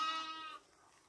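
A lamb bleats once, close and fairly loud, with a wavering tone that cuts off after about half a second and leaves quiet room sound.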